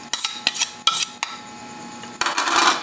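A utensil clinks and scrapes against a mixing bowl while puto batter is stirred into dry ingredients, with several sharp taps early on and a steadier scraping swirl toward the end, close and fairly loud.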